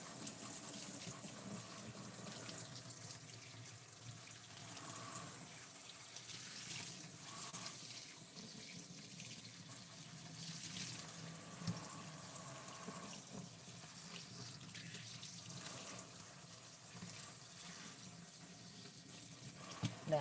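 Warm water runs steadily from a tap into a sink while used Barbie dolls are washed, a continuous gushing wash of sound lasting throughout with no talk.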